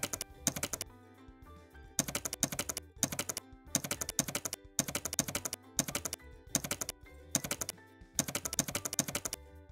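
Rapid bursts of typing on a computer keyboard while filling in an online application form, clicking in quick clustered runs separated by short regular pauses, close and clear with no talking.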